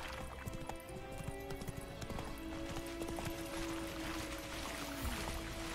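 Roach, a horse in The Witcher 3, clip-clops steadily along at a trot, close and continuous, with splashy, watery ground noise and ambient hum beneath.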